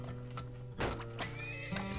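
In the video game Turmoil, horse carts make brief clip-clop hoof sounds and a short whinny over a steady low game background hum, close and moderately loud.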